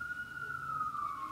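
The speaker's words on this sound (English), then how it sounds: "And here we go with the sirens" Emergency vehicle siren outdoors, a single steady wailing tone drifting slowly downward in pitch, moderately distant under a low background rumble.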